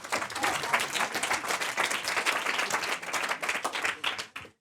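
A small audience claps at a sextech pitch event, brisk and fairly close, with applause that holds steady and then cuts off abruptly.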